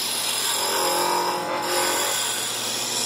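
A Jet wood lathe turning a wood blank as a hand tool cuts along the length of the tool rest, giving a steady, dense rushing hiss with no pauses and no talk.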